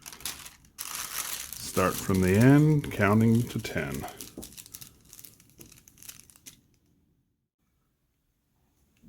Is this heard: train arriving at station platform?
no